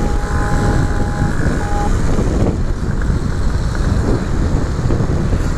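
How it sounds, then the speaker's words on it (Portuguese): Steady, heavy wind roar buffets the microphone while riding a motorcycle, a dense low rumble with no gaps, loud and close. "E o vento tá forte"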